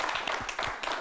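A crowd applauds during a festival launch broadcast, a brief burst of quick, overlapping claps at moderate volume with little talk.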